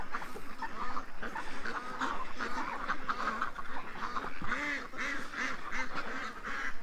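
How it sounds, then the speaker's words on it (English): Ducks quack over and over in a noisy, overlapping chorus at close range, with honk-like calls mixed in and a steady, dense texture throughout. "Come on, ducks"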